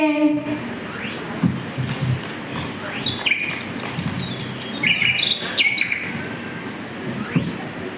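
House sparrows chirp repeatedly in bright, overlapping bursts against a steady background hum, some calls near and others farther off.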